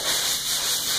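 Steady scratchy rubbing of sandpaper worked by hand over car body filler during automotive paint prep, close and continuous for a moment.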